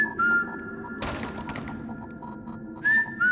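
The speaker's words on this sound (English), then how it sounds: "I heard what sounded like someone whistling." Whistling drifts from a hallway at a campground at night with nobody else around: a short whistled note, then a dull thud and rustling, and another brief whistled phrase near the end.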